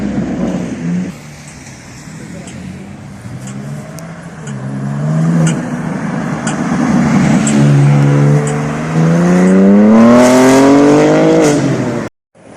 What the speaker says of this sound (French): Là t'as 911. Derrière S63 AMG. Et du coup là t'as Turbo S.